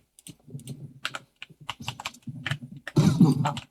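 Rapid clicky keystrokes on a computer keyboard, bursts of typing that end in a louder, heavier flurry of keys, with no talking over them.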